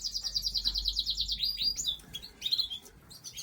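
Canary chirping in rapid, high trilled runs with a few short tweets, fairly close and clear over low background noise while it is held and bathed in warm water at the vent.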